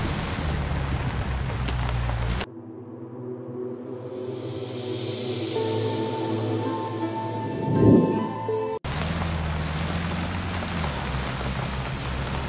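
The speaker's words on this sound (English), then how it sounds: "This is the most terrifying rainstorm I've seen yet in Scum." Heavy rainstorm in the video game SCUM, a dense loud hiss of pouring rain that cuts to a quieter spell with a low droning tone, then returns to full roaring downpour.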